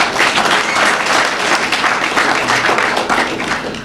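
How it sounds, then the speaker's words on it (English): Audience applause at a speech event with the Minneapolis mayor, loud close clapping from a crowd that swells and then tapers off over about four seconds. "Yes, that's worth clapping for."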